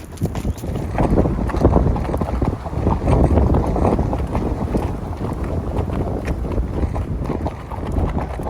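Strong wind blasts across an open Colorado desert ranch, with loud, gusty buffeting and rumbling against the microphone that persists without a break.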